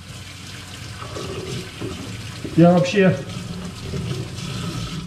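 Tap water runs and splashes while a mullet fillet is rinsed, a steady wash of flow with a louder burst of splashing midway, heard under a man's speech.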